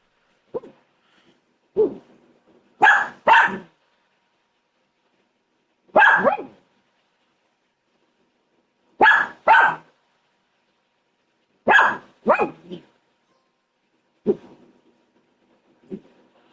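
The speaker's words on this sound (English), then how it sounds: "barking at the other dog" A dog barks repeatedly at another dog, sharp single and double barks spaced out over several seconds with quiet gaps between, fairly close and loud.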